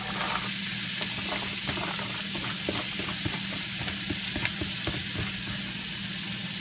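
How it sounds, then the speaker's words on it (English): Onions fry in oil in a hot skillet over medium-low heat, giving a loud, continuous crackling sizzle with small irregular pops and a low hum underneath. "In go the onions."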